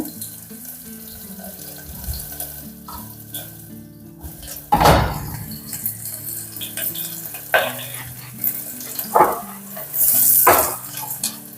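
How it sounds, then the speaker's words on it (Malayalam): Onions fry in a hot pan for a quick rice breakfast dish, giving a steady soft sizzle. Louder scraping bursts break in now and then as a spoon stirs the pan. "അപ്പോൾ ഉള്ളിയൊക്കെ ഒന്ന് വഴന്ന് വരട്ടെ കേട്ടോ"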